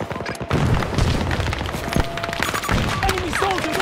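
Planted charges detonate in a shooter video game, with heavy booms and rumbling blasts layered over gunfire and battlefield noise.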